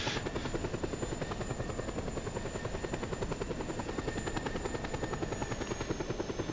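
A helicopter in the video game Just Cause 2 drones steadily with a rapid, even rotor thump, moderately distant and continuous throughout, no voices present.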